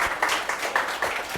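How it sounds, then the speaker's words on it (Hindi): A small group claps for a successful student in a brisk series of loose, evenly spaced claps, close and fairly loud over a faint room background. "बच्चे के लिए तालियां भाई"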